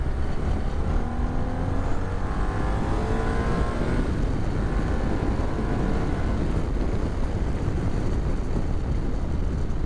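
A 2007 BMW R1200R twin-cylinder motorcycle engine revs and accelerates hard onto a highway, with rising harmonic tones over loud rushing wind and road noise throughout.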